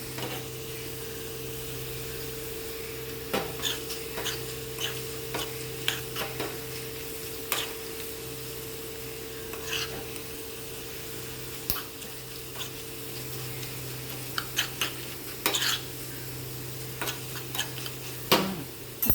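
Food sizzles steadily in a pan for a brown-rice breakfast while a utensil stirs and scrapes at irregular intervals, sharp clicks over a constant frying hiss and a low hum.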